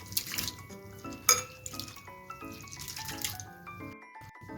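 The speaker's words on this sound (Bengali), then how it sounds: "এখন সাবুটা আমি জল পাল্টে 2 থেকে 3 বার ভালো করে ধুয়ে নেব। হাত দিয়ে এইভাবে রুগিয়ে ভালো করে ধুয়ে নেব।" Sago pearls are swished and rubbed by hand in a bowl of water, giving soft sloshing and dripping sounds with bright clinks, close and fairly quiet.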